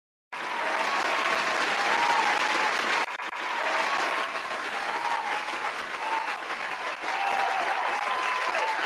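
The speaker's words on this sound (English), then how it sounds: "That's the longest clap." Sustained audience applause from a large crowd, loud and continuous for several seconds after a sharp onset, dipping slightly midway and then swelling again, with no talk over it.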